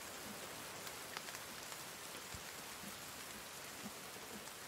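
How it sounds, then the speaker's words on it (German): Rain falls steadily in the survival video game The Forest: a constant, soft, even hiss of rainfall with a few faint drops and patters, and no voices. "Ich huldige euch, ihr Regengötter."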